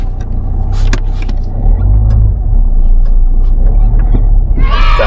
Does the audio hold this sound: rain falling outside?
no